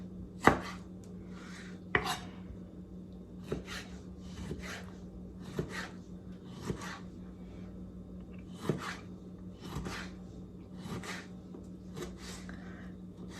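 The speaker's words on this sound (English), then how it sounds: "And then just going to chop it up." A knife chops tomatoes on a board in about a dozen crisp, evenly spaced strokes, close and fairly quiet, with no talking.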